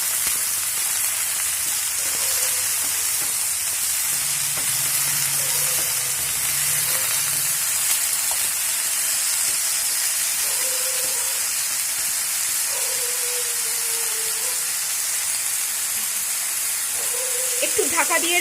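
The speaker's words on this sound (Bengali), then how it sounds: "নুন হলুদ দেওয়ার পরে ভালো করে কষতে হবে।" Eggplant and a rohu fish head stir-fry in oil with salt and turmeric, a continuous close sizzle and hiss with occasional scraping stirs and faint background voices.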